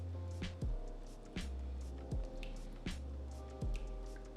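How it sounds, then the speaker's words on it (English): Lasagna soup mixture is stirred in a pot, giving repeated wet squelching and sloshing strokes at a steady rhythm, close and moderately loud, with no voices. "And let's stir that up."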